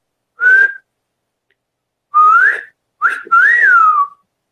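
Three short whistled notes with gaps between them, the last one sliding up and down; a clear, close, fairly loud tone.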